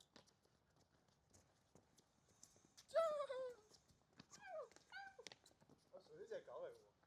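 During a sports practice drill, a person imitates a dog with a few short, yelping barks and whiny calls in quick bursts, fairly close and otherwise quiet.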